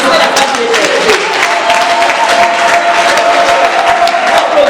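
A seated audience applauding a woman at a conference debate on women, with loud, dense clapping and some cheering lasting throughout, with a voice talking over it.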